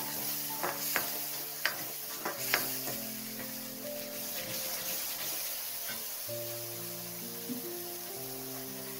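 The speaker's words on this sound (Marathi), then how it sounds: "त्यामध्येच आपण अमूल बटर टाकणार आहोत एक वडी. ते पण व्यवस्थित फ्राय करून घ्यायचं." Amul butter frying in a pan with paneer masala gravy, a steady sizzle running throughout, with stirring clinks and scrapes breaking through near the start and a few more later.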